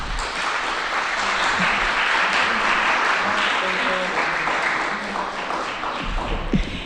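An audience applauds at a preservation alliance event, sustained full-room clapping that holds level for several seconds, with a few murmured voices underneath before it tapers off.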